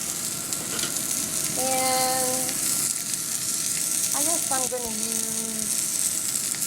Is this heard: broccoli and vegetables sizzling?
yes